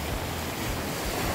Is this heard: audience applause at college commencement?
no